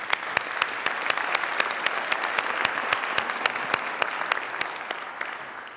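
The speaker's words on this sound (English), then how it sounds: "I really would like to give them a round of applause." An assembly hall audience claps at an internet governance forum closing ceremony, a steady wash of many hands with a few sharp, close individual claps standing out in an even rhythm.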